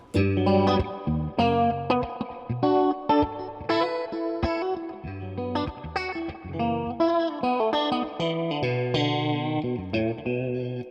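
Electric guitar played through a chorus pedal on the middle and bridge pickups, with shimmering chorused chords and melodic runs ringing out loud and close for the whole stretch, no voices.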